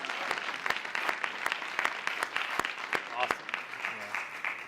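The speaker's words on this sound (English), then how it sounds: "Let's give him one more round of applause" Applause from the audience at a youth summit, a steady wash of clapping over 5 seconds with sharp, evenly spaced louder claps standing out on top; a few voices murmur underneath.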